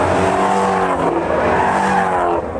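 A loud, throaty 5.2-liter flat-plane-crank V8 engine of a Ford Mustang GT350 roars continuously at high revs, with harmonic growl and a hint of tire noise, close and sustained throughout.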